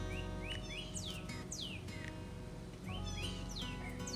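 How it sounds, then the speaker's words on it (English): Cardinal fledglings in a backyard give repeated high, sweeping chirps and calls for food, clear over a steady low background hum. "On the feeders, in the shrubs, hopping around the yard, calling for food, fluttering their little wings"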